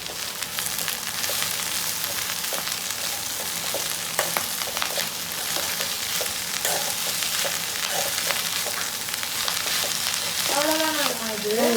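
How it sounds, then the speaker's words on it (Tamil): Agathi spinach leaves sauté in a hot pan with a dense, continuous sizzle and occasional stirring scrapes. A voice briefly joins near the end. "கீரையை வதக்கி விட்டுட்டு கொஞ்சோண்டு மஞ்சள் தூள் போட்டு"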